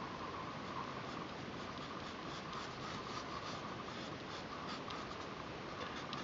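A pencil drawing cactus root shapes on paper makes soft, continuous scratching and scribbling strokes, close and faint, moving in an uneven rhythm with no talk over it.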